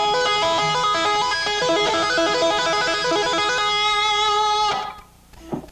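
Distorted electric guitar played with two-hand tapping, using first-finger pull-offs, produces fast, continuous legato note cascades in a repeating pattern. The notes then stop abruptly, leaving a faint ringing tail and a small thump.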